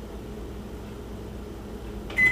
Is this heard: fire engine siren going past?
no